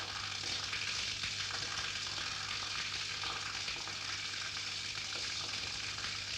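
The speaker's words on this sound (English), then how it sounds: "Cutting and blending after each ingredient is added helps give uniform and thorough mixing." An industrial mill cuts and blends ingredients, carbon among them, in a continuous loud whooshing, sizzling roar over a low steady hum.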